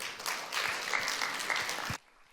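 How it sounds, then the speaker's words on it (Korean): An audience at a tea culture festival in Ulsan claps loudly to welcome a lecturer, the applause running steadily before stopping abruptly near the end. "여러분 큰 박수로 모시겠습니다"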